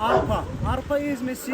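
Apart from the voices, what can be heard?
None of the usual background noises is heard.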